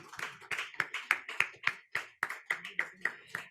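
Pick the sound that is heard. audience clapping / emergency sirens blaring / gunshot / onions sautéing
audience clapping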